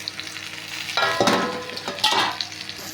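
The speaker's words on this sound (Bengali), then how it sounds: "পেঁয়াজটা ভাজা হয়ে গেছে, টমেটো দিয়ে দিলাম।" Chopped tomato goes into onions already frying in a pan, setting off a sudden loud sizzle that keeps crackling with stirring and small bumps.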